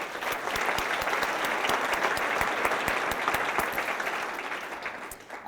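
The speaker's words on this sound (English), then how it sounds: "so please give yourselves a round of applause" A gala audience applauds a speech with sustained, dense clapping that fills the room for several seconds, then tapers off near the end.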